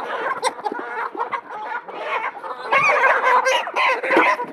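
Several farm chickens cluck and squawk in agitated bursts as they are caught, the calls near and overlapping, with scuffling between them.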